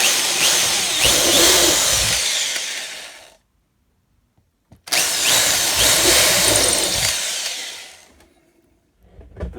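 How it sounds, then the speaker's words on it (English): A power drill boring holes for model railroad turntable wiring, two loud whirring bursts of a few seconds each separated by a brief silence, close by, with a third burst starting at the end. "I'm going to make some holes for the wires that feed electricity to the turntable."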